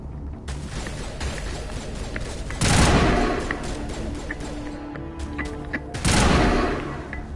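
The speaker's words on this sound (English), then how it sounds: "Why is the assault rifle so accurate in this game?" An assault rifle in Mass Effect fires repeated sharp shots in quick succession, punctuated by two heavier booming blasts, all loud and close, with no talking.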